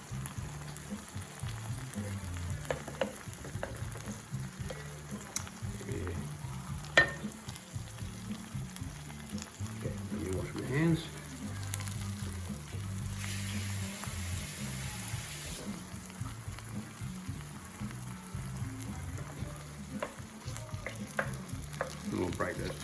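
A pan of tomato sauce with Rogan Josh meatballs bubbles at a boil, giving a soft continuous simmering and popping under faint spoon stirring, quiet and close.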